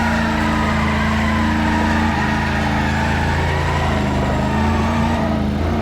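A heavy car in the driving game Driver San Francisco does a burnout, giving a steady, loud engine drone that holds without a break.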